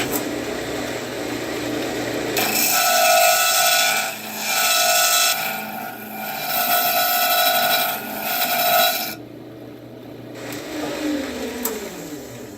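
A lathe tool cuts rings of cherry wood for a segmented vessel, giving a steady rasping, scraping drone over the whirring spin of the lathe, with brief pauses and shifts in pitch as the cut changes.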